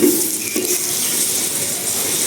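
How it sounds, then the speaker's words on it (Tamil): Tomatoes drop into mutton biryani masala sautéing in a pan, setting off a loud, continuous close-up sizzle after a brief initial burst, with no talking. "நல்லா கோல்டன் ப்ரௌன் வர வரையும் வதக்கிக்கலாம். இப்போ தக்காளி சேர்த்துக்கலாம்."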